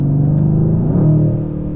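A Mercedes C63S AMG Coupé's V8 rumbles loudly at close range in Sport Plus with the exhaust flap open, a deep, steady growl that swells briefly in a short rev before settling.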